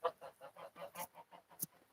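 A run of rapid, rhythmic clucks from nearby chickens in a nor'easter rainstorm, about a dozen short calls with one sharper squawk near the end.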